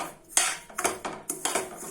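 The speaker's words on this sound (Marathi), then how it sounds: "रवा असाच भाजून घेऊया पहिले" Semolina dry-roasting in a hot kadhai before any ghee is added, stirred with a spoon that clinks and scrapes against the metal pan in several distinct bursts, close and moderately loud, with no talking.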